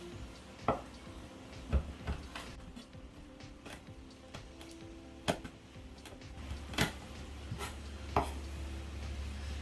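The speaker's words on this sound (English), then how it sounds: "I'm going to chop up my thyme" A knife chops fresh thyme for Jamaican oxtail with a run of crisp, irregular taps on a board, quiet and close, each chop a short sharp knock with pauses in between.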